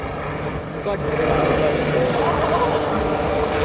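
A HAL LUH helicopter flies backwards at an airshow, its rotor and engine making a loud, steady, close drone that builds slightly.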